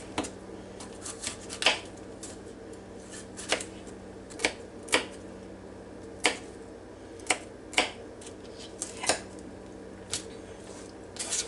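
Knife chopping green peppers on a cutting board in a home kitchen, a dozen or so sharp, irregularly spaced cuts and taps against a low steady background hum, with no talking.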